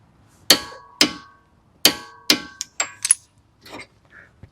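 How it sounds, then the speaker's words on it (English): Hammer blows staking the front axle nut on a 2006-2012 Toyota RAV4 during wheel bearing work, about six sharp metallic strikes at an uneven pace, each ringing briefly, followed by a couple of softer taps. "Go ahead and restake our nut."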